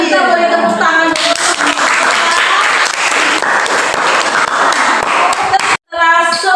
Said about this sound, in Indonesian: Nah, kita boleh tepuk tangan dulu.